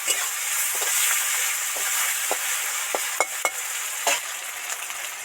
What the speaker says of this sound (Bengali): ওদিকে তো কড়াতে সব কিছু ভাজা হতে থাকছে